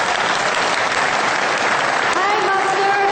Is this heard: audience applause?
yes